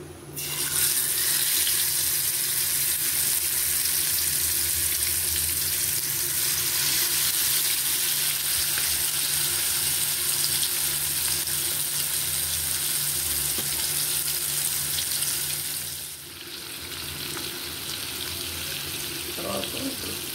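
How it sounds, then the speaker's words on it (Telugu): Marinated fish pieces fry in hot oil with a loud, continuous hiss and sizzle close by. The sound holds steady for most of the time, then dips briefly before settling into a slightly quieter sizzle. "ఇప్పుడు మనం మ్యారినేట్ చేసుకున్న ఈ ముక్కలు ఉన్నాయి కదా, చేప ముక్కలు, ఇవి ఇలా నూనెలో వేయించుకున్నాం"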